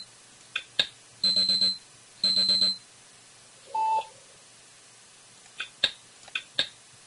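Electronic software alarm beeps and short tone bursts, a few single bleeps then two rapid pulsing beep trains and a lower tone, clean and close.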